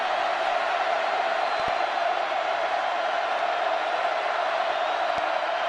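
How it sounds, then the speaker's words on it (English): A college football crowd at Texas Tech in Lubbock roars steadily in a big stadium during Texas at Texas Tech, a dense continuous wash of cheering and whoops without a break. "The crowd alive in Lubbock."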